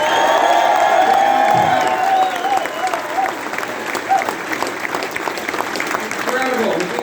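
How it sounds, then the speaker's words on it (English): A crowd at a political rally in Winnipeg applauds and cheers, steady dense clapping with whoops and shouting voices rising throughout, loud and continuous. "Everybody give a round of applause to the folks who are over in the other room as well"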